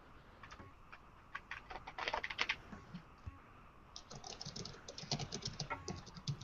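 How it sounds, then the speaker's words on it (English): Rapid, uneven typing on a computer keyboard, close and fairly loud, with clustered bursts of key clicks and brief pauses between them, no voices. "So who's smashing the keyboard?"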